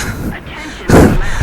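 A heavy boom of a tank cannon firing in War Thunder, one sharp blast cutting through excited talking.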